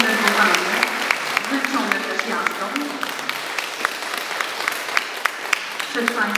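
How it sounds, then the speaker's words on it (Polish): Applause from a concert audience in Nowy Łupków, welcoming children and a string orchestra: steady clapping throughout, with a voice and musical tones showing faintly beneath it. "przyjmijcie oklaskami"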